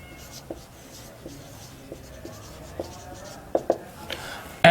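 Chalk or marker strokes on a board while a physics numerical is solved, faint scratchy taps and short rubbing strokes in an uneven rhythm, with a sharper knock near the end in a quiet room.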